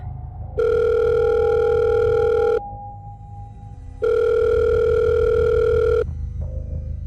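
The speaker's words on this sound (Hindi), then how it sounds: "पॉकेट में रखा उसका फ़ोन दोबारा बजा" Phone ringing: two long, loud electronic ring tones, each lasting about two seconds with a pause between, close and clear over a low background hum.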